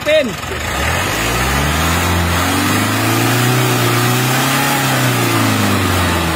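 A Mitsubishi Strada pickup engine, long dead and recently revived, revs up steadily with a rising then sustained drone that hangs high before easing slightly, loud and close with no talk over it.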